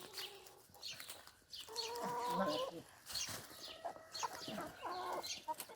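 Backyard garden chickens cluck and squawk in a busy, uneven chorus close by, with occasional louder calls and a voice speaking faintly underneath.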